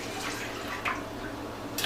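Water pours from a measuring cup into a pot on a stove, about four and a half cups, a soft, steady splashing trickle with a few brighter drips, close and quiet, no talk.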